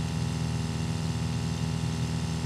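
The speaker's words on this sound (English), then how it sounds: "our pump wasn't super noisy, wasn't super loud, but this did bring down the noise considerably." An RV water pump runs close by in its stock form, an unmodified steady motor drone with a strong low hum and constant buzzing texture, no voices present.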